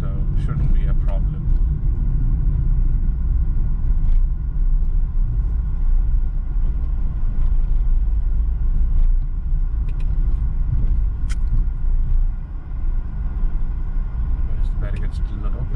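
Steady low car rumble while driving slowly through a clean, well-maintained toll plaza with an automatic gate, with a few faint clicks and knocks over the continuous engine and road drone.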